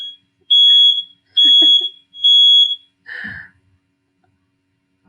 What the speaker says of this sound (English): my fire alarm would go off right now.